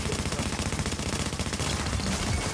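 Gunfire in a video game sounds as a dense, rapid string of loud, close blasts that continues without pause for a couple of seconds.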